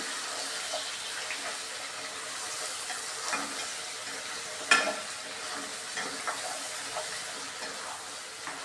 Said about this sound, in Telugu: ముక్కలు మొత్తం దీనిలోకి తీసుకున్నానండి బాగా వేయించాలి దీన్ని